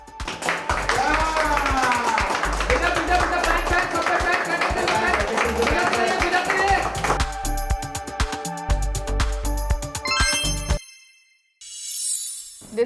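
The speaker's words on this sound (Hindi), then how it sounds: "वहां मौजूद सभी लोग तालियां बजाकर मंगल का हौसला बढ़ाते हैं।" A group of people clapping to encourage a woman making rotis on a TV drama set, the clapping heard under music and voices before things drop to near silence.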